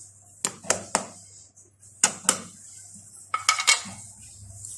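Potato kebab mixture is stirred in a bowl, and a utensil knocks and clinks against the sides in scattered bursts of sharp, close taps.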